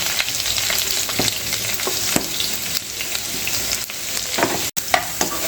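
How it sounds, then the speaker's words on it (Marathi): Finely chopped onion and curry leaves fry in hot oil for a masala. A steady, loud sizzle runs throughout, with a few scraping stirs and no voices. "आपण ह्याच्यामध्ये तेल टाकूयात आपण थोडासा कढीपत्ता टाकूया आपण बारीक शिजलेला कांदा टाकूया"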